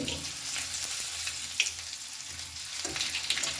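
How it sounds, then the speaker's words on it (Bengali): Grated ginger stirred into a frying spice tempering for a bottle gourd and milk dish, a quiet crackling sizzle with a few soft spoon scrapes, close by and without speech. "এবারে আদাটাও আমি দিয়ে দিলাম নেড়ে"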